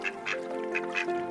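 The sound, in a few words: many birds landing on water in a cartoon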